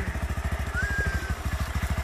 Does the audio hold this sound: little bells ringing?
no